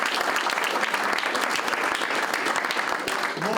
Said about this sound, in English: We can clap for him right now